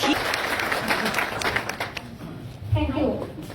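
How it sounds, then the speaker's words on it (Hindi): An audience claps and applauds at a stage event with an anchor. The applause sounds moderately near and mixes with a voice speaking over it. "एक बार आप सब लोगों के लिए जोरदार तालियां बजाएं"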